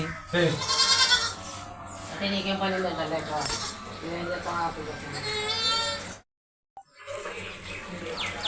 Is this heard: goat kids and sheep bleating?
yes